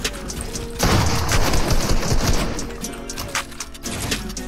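Rapid gunfire erupts in a video game, a loud dense volley that starts abruptly and keeps crackling in bursts with a few sharper shots toward the end.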